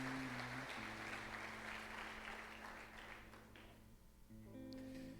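A church congregation claps in praise, a soft, distant patter of hands spread across the room beneath sustained organ or keyboard chords that keep playing throughout.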